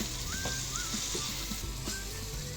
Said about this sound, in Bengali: মশলার কাঁচা গন্ধ দূর হলে চিকেন দিয়ে কষাতে হবে দশ থেকে পনেরো মিনিট চিকেনটা হাই ফ্লেমেই